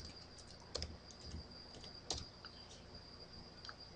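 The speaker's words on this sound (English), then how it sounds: "So we type in the router name." Someone types a router name on a computer keyboard while configuring a Cisco 2511 access server, making a few sparse, quiet key clicks over a faint steady hum.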